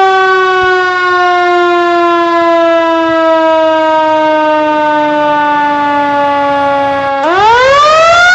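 A fire engine siren answering an emergency call gives one loud, close, sustained wail that slowly falls in pitch, then sharply rises again near the end.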